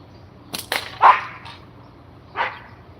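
A pet dog gives a few short, sharp barks and yips close by, irregularly spaced across a few seconds, near someone shooting outdoors on the Fourth of July.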